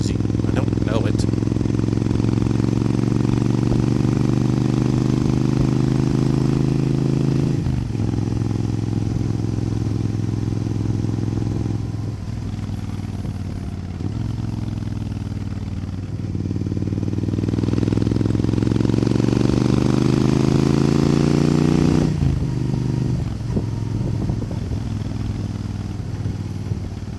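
A Suzuki Intruder 1400 motorcycle, an older SR37, rides along at an easy pace with a steady, loud engine drone whose pitch rises and falls through gear changes, and a rider talks over it.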